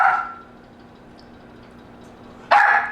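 A pet dog in a home kitchen gives two short, loud barks, one at the start and another near the end, with a quiet pause between them.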